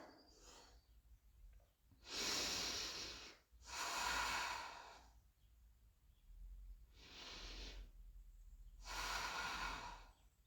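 Deep, audible breathing while holding a lifted leg in a yoga posterior-chain exercise: four long, loud breath bursts, close and steady in rhythm, with quieter pauses between them and no talking.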